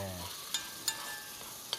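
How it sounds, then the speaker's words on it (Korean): Potatoes and radish stir-fried in perilla oil and soy sauce give a soft sizzle, punctuated by a few sharp scraping clicks of the utensil against the pan, with no talking. "자, 이렇게 좀 볶아주세요."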